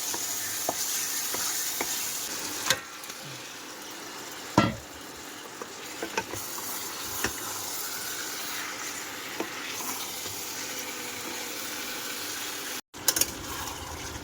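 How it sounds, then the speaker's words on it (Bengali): Chicken meat sautéing in a pot on an induction cooker makes a steady soft sizzle, broken by occasional sharp clacks of a spoon against the pot and brief stirring scrapes, without talking. "মাংস এখনো কষাই হচ্ছে এই ইন্ডাকশানে।"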